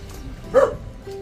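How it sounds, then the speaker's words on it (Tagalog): A single short dog bark, fairly close, rising briefly out of a quiet room. "Pero may aso rin kami."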